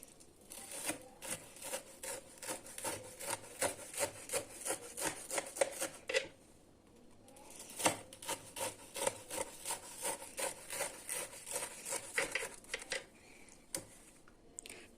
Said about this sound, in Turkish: Dilimlerken özellikle konuşmamaya dikkat ediyorum ki çıtırtısını duymanız için.